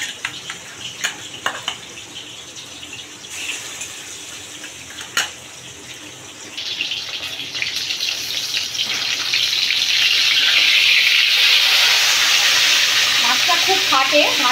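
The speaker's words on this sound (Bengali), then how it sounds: "মাছটা খুব ফাটে, ভাজার সময় যদি ঢাকা দিয়ে ভাজা হয় তাহলে গায়ে লাগবে না।" Tangra fish frying in a lidded pan, with scattered clinks and taps at first, then a dense sizzling spatter that swells and holds loud and steady, with no talking.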